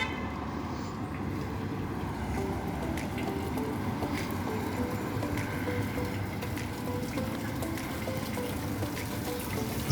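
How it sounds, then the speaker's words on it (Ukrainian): Steady broadband rush of water running continuously, like a stream or runoff nearby, with occasional small drips and patters throughout, on a city boulevard in Zaporizhzhia at about six in the evening. "Водичка тече."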